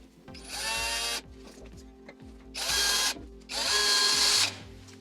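A power drill drives ordinary screws into OSB board in three loud, close whirring bursts, the motor rising and cutting off between them, with faint clicks in the pauses and no speech.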